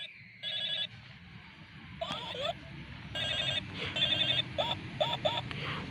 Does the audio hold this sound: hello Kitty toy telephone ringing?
yes